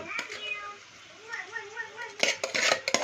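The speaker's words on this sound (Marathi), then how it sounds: "आता आपण थोडंसं परतवून त्यात टाकूया शिजलेली मुगाची डाळ." Cooked home-made moong dal is stirred into a pan, with a spoon clinking and scraping against the metal in quick bursts while a voice talks faintly in the background.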